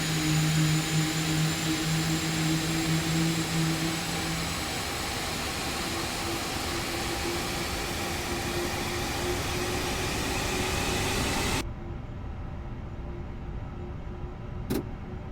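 Rolls-Royce Trent engines spooling up on an Airbus A350-1000 in a flight simulator game, a low steady whine and rumble that holds evenly, then cuts to a quieter hum near the end.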